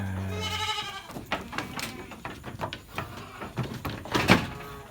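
Seven-month-old PE breed goats bleat in their pen: repeated loud, wavering bleats close by, mixed with clattering and knocking from the pen.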